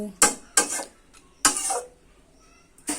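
Water spinach being mixed with fried potatoes in a pan, giving a few sharp scraping stirs of a utensil against metal with quiet gaps between them, close and clear with no talk.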